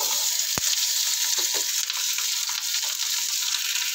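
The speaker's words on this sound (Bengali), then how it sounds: "আমার গরম হয়ে গেছে, এর মধ্যে দিয়ে দিচ্ছি ফুলকপি আলু আর পেঁয়াজটা।" Cauliflower, potato and onion sizzle loudly in hot oil on an induction cooktop, a dense, steady close crackle with a clink of a utensil early and faint stirring.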